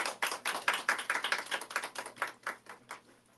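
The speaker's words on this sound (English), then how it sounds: "Let's give her a round of applause." A small group claps for a guest at a live book talk, distinct individual claps in a quick uneven rhythm that gradually thin out, fairly close and with no talking.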